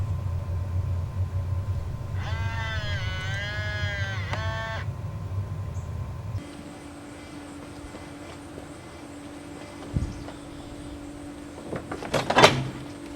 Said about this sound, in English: you're able to lock and unlock the door using your phone.